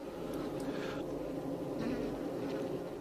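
Honeybee hive interior with a newly emerged worker drying its wings, a continuous close, dense buzzing drone with faint fluttering rises.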